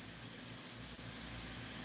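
Aerosol spray paint hissing steadily onto the lower edges of clouds in a dramatic sky painting, a close, continuous airy spray with only a momentary break partway through.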